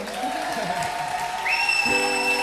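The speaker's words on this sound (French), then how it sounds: "faut vous applaudissiez un peu comme ça" Audience applause and some crowd noise at a small cabaret-style concert, a dense clapping wash that continues as sustained musical tones enter partway through.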